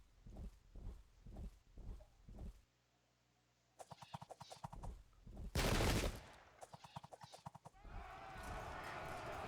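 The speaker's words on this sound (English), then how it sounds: "A little bit of harassing fire" Harassing gunfire rings out in a Sengoku Jidai video game battle: scattered crackling shots and one dense loud burst, mixed with thudding footfall-like game noise and a brief quiet gap.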